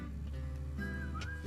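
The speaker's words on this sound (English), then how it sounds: "I also walk around the house whistling this song." A person whistles a tune, the melody gliding through a few rising and falling notes over a steady background hum, close and moderately loud for a short stretch.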